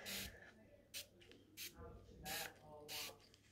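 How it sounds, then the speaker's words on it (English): Several short hissing bursts of a water spray bottle misting a face, spaced irregularly, close and fairly quiet. "Now I got some water and I'm gonna spray it all off my face."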